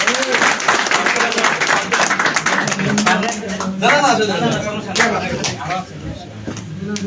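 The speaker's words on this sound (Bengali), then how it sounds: "জোরে হাততালি হবে, জোরে।" A crowd at a DXN business gathering breaks into sustained applause, steady and fairly loud, with voices talking through the clapping.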